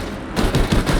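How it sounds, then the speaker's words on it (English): Four 20mm cannons on an F4U-1A Corsair fighter plane in Battlefield V fire a rapid, loud, continuous burst of heavy booming shots, each pulse running into the next. "Show you guys what the 4X cannons can basically do, even without the high explosive rounds"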